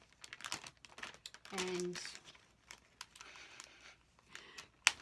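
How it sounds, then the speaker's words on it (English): A small plastic packet of glitter from a perfume-making kit crinkles as scissors cut it open, with close, irregular rustling bursts and a brief spoken word. "get my scissors unstuck and cut it open"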